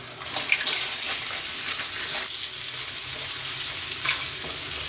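Surf clams tossed into a hot wok with fragrant garlic and roasted chili paste give a steady, close sizzle with scraping stir-fry clatter, loudest in the first seconds and easing slightly after.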